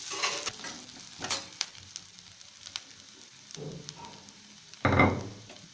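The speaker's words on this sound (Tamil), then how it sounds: "வெங்காயம் இப்போ நல்லா வதங்கிட்டு இருக்கு" Onion, green chili and curry leaves sauté in a pan for a carrot and beans poriyal, giving a soft, steady sizzle broken by scattered stirring scrapes and a louder burst of frying near the end.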